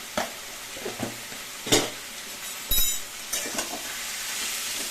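Taro leaves with a hilsa fish head being slowly stir-fried in a pan, with soft sizzling broken by several sharp spatula scrapes and clinks against the metal, close by and without talk.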